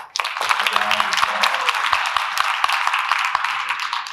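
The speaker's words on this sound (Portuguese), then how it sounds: "Palmas." Audience applause after a motivational talk on purpose and calling, a dense wash of many hands clapping steadily throughout, fairly loud and continuous with scattered sharper claps and faint voices underneath.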